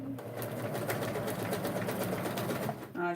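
A sewing machine runs steadily and close by, its rapid stitching hum continuous for a few seconds before stopping abruptly, with a brief voice at the end.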